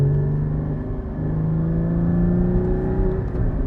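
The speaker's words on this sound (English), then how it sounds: "I'm starting to enjoy the auto blip when I'm not racing the car." A Porsche GT4 engine revs in a smooth rising auto-blip over a steady low hum, close and fairly loud, with no voices.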